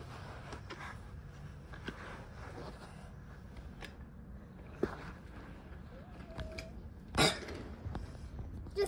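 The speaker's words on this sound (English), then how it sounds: "Just don't listen to my coughing." A single sharp cough from a child building a Brio train track, rising briefly over low indoor background noise near the end.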